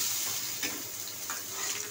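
Mango pieces fry in hot oil with panch phoron and dried red chilli for mango chutney, a steady close sizzle with a few stirring scrapes.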